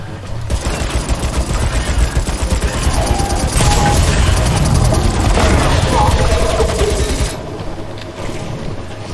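Rapid bursts of gunfire from Earl's weapon in the video game Crucible ring out loud and dense throughout, mixed with game effects and a voice talking over it.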